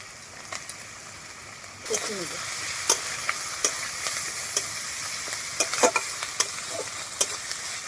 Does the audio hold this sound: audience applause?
no